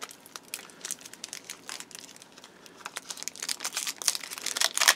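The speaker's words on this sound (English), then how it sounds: "If the pack lets me open it." A foil booster pack of Force of Will trading cards being torn open, close up, with crinkling and ripping that builds in loudness toward the end.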